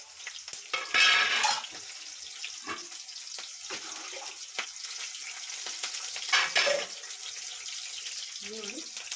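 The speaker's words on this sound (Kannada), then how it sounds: "ಚಿಟ್ಟಪಟ ಅಂತಿದೆ. ಈರುಳ್ಳಿ ಹಾಕ್ತೀನಿ." Onions and mustard seeds fry in hot oil, a continuous crackling sizzle with louder bursts as ingredients are stirred or added, heard close up in a home kitchen.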